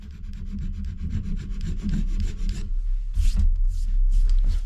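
A hand scraper shaving osage wood on a hunting bow, giving a continuous rough rasping at close range, with a few sharper strokes near the end.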